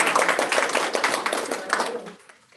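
An audience at a board of directors meeting claps for several seconds, a close, dense patter of hands that thins out and fades away near the end.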